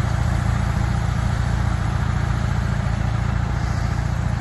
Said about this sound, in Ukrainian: Така робота плуга Кверленда, трактора.